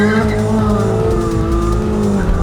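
Mazda MX-5 and Mini Cooper JCW launch side by side in a drag race on a track, engines roaring loudly with rising revs and gear changes, a continuous close, dense engine drone.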